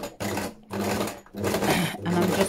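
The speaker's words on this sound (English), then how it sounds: "So I'm going to sew around these. So I'm going to sew So I've put it on a normal stitch." A sewing machine on a normal straight stitch runs around a picture on a vellum envelope, in four steady whirring bursts separated by short pauses, close and fairly loud.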